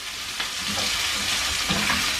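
Food sizzles steadily in a hot pan, a continuous crackling hiss up close with no voices.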